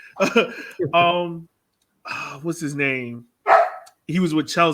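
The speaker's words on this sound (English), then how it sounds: "That's my dog. She's excited." An excited dog barks in short, loud, close bursts, yipping between and over someone talking in an indoor room.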